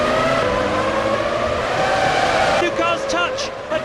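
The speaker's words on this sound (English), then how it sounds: "Ferrari's Michael Schumacher is doing his best to keep the other car behind him" Formula One cars racing in the Formula One 2003 video game: a steady, loud engine whine holds throughout, with rising and falling pitch sweeps near the end as cars shift and pass.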